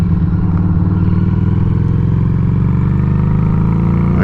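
A Harley-Davidson Street 500 motorcycle accelerates steadily on a road, its engine droning loud and close with a rising pitch and constant exhaust rumble, no voices over it.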